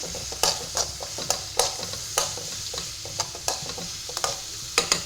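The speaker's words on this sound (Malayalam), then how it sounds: "ഇനിയിപ്പോൾ ഇതും കൂടി നന്നായിട്ടൊന്ന് മിക്സ് ചെയ്തെടുക്കാം." Chopped onion and garlic sizzling in hot oil as a spoon stirs them, quiet steady frying hiss broken by sharp scraping clicks of the utensil against the pan at irregular intervals, heard close with no voices.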